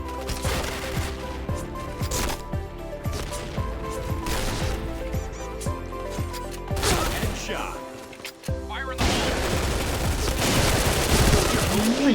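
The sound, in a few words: gunfire in the video game Point Blank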